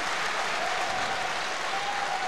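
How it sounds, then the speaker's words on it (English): A crowd applauds a 109 kg weightlifter at the European Weightlifting Championships 2023, a steady, dense wash of clapping, loud and continuous throughout. "He's hyping the crowd up, and they love it"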